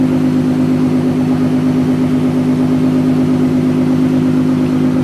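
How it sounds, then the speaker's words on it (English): A 2013 Ford Mustang with the 3.7 V6 and Roush axle-back exhaust drones loudly and steadily at close range, a constant low exhaust rumble with no voices. "those things you hear making all that noise is the Roush Axlebacks I've added"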